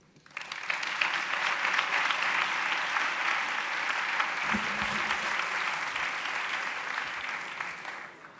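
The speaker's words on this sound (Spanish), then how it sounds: "quiero que le deis un gran aplauso a Esther Samper" Sustained audience applause fills a hall as a researcher is welcomed to the stage at a science talk, dense and steady clapping building quickly and holding loud for several seconds before easing slightly.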